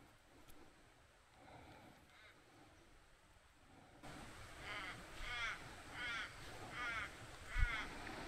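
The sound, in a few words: crow cawing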